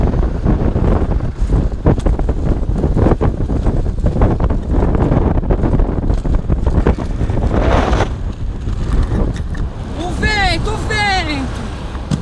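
Strong wind buffeting the microphone while skating outdoors, a continuous loud rumbling roar that dips briefly before a voice speaks near the end.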